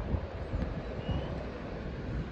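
Strong wind blowing by the water buffets the microphone in a steady, loud low rumble with no voices.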